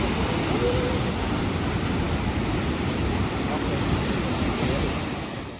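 A steady, loud roar of falling water rushes continuously without a break and eases slightly near the end.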